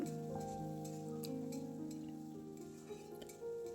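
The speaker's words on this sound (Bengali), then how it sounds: "চিংড়ি মাছটাকে একটু প্রথমে একটু ভেজে নেব" Prawns sizzle in hot mustard oil with turmeric in a home kitchen pan, a steady crackling fry with clinks of a utensil stirring against the pan.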